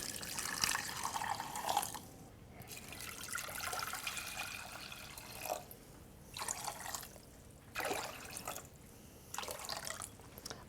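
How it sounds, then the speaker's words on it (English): Cold water pours into a pot of root vegetables, coming as several separate splashing, gurgling bursts with short quiet gaps, fairly soft and close. "Cover with cold water."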